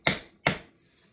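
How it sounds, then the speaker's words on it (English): Two sharp metallic hammer taps, about 0.4 s apart, land on a half shaft bearing on a B20 as it is gently driven into place. Each one rings briefly and then goes quiet. "get a hammer and tap this gently in"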